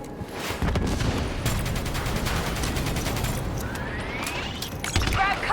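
Sustained rapid gunfire from a minigun in the video game Call of Duty: Black Ops III, loud and continuous through the whole span, mixed with battle noise and a rising whine near the end.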